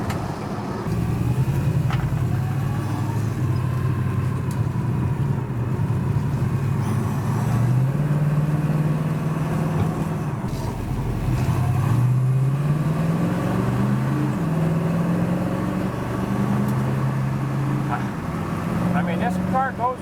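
A 1965 Ford Mustang coupe accelerating on a freeway, engine note rising through the gears under steady road and wind noise from inside the car, with a person talking over it at times.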